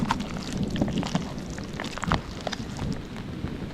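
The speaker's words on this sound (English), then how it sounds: "Already the wind is picking up" Wind picking up outdoors at a camping spot, a continuous rough gusty rush with scattered light patter of rain.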